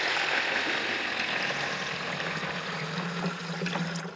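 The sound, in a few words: water being poured into a garden spray tank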